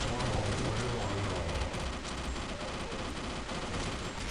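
Counter-Strike Online gunfire from the Frost Viper and Fire Fox weapons crackles in dense, continuous rapid bursts at moderate level, packed with overlapping shots.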